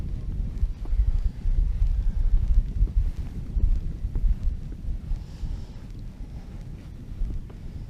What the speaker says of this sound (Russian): Неприятный ветер.